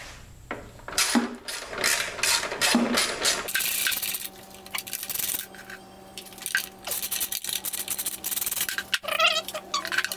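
A seized Predator 212 small engine that sat outside for five years is worked by rocking its pulley back and forth, producing rhythmic metallic clicks and ratcheting scrapes in bursts, then scattered clanks and small mechanical knocks, close and fairly loud.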